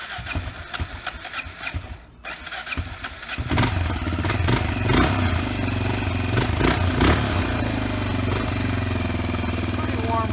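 A Honda XR650L single-cylinder motorcycle with a Big Gun aftermarket exhaust fires up after some brief handling noise, then settles into a loud, close, steady thumping idle with occasional revs, with no talking over it.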